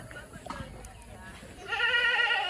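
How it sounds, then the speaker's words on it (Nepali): A goat bleats behind people in a rural Nepali village, a wavering, moderately near cry rising near the end after quieter talk and background noise. "बाख्रा कराइरहेछ पछाडि कराइरहेछ"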